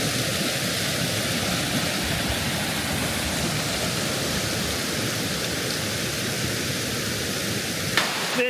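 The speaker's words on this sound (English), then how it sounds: "There's a giant waterfall here, which is epic. You can hear it" A giant waterfall near Sunrise Lake on Mount Jutland roars as a steady, broad wash of rushing water, unbroken throughout, with a brief scuffing sound near the end.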